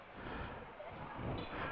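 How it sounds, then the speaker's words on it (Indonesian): Steady traffic of cars and motorbikes passing along a street near Plengkung Jogoboyo in the Baluwerti fortress area of the Yogyakarta Kraton in the early morning, a continuous moderate rumble with no distinct individual passes. "Ini banyak mobil yang lewat, motor juga ya ini."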